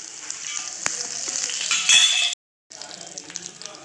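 Curry leaves drop into hot oil for a coconut chutney tempering, giving a bright, steady sizzle with crackling spits. A short silent gap breaks it before the frying resumes at a slightly lower level.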